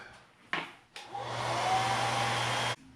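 A couple of short puffs of air, then a heat gun or hair dryer blows with a steady roar for about two seconds before switching off, heat-setting airbrushed paint on a micro trout fishing bait.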